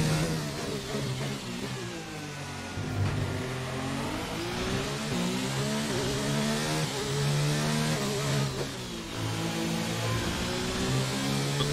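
A Formula 1 car engine revs and shifts in the F1 2019 video game on the Monaco circuit, a loud, close high-pitched whine that rises and falls continuously with gear changes and no talk over it.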